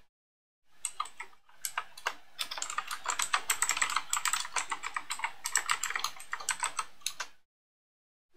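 Fingers type a command on a Mac computer keyboard in a rapid run of close, crisp key clicks, starting with a few scattered taps, then a dense burst before trailing off into silence.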